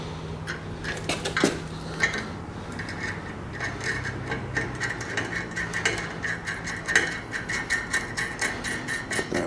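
Bolts go into a metal spare tire bracket on a trailer, giving repeated close metallic clanks, taps and ratcheting clicks in an irregular rhythm, with no talk.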